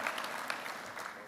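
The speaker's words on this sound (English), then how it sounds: "give yourself a round of applause" A short burst of steady applause, a dense wash of many hands clapping at once.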